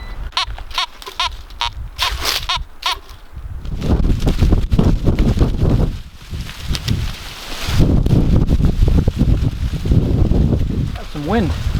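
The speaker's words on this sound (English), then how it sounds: "Got some wind." Wind gusting through the New Hampshire woods, a rough rumbling rush that swells and fades against the microphone, preceded by a few short rustling or scraping sounds; someone speaks briefly.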